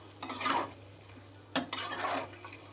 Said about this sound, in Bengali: ঢেলে দিয়ে এবার আমি কষাবো, আলু কপি সয়াবিন সব একসঙ্গে কষাবো।